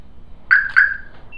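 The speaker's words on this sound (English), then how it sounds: "I better turn off my damn alarm." A car alarm sounds two short, close, loud chirps in quick succession, followed by a faint brief tone and otherwise quiet surroundings.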